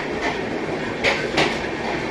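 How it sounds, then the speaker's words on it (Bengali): The 12331 Himgiri Express rolls along with a continuous rattling rumble, carriages shaking, with two brief louder clanks of the wheels over rail joints in the middle. "আর ট্রেন এত ঝাঁকুনি দিচ্ছে যে ঘুম তো আর হয়নি।"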